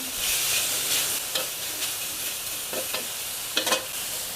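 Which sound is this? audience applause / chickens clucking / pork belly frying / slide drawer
pork belly frying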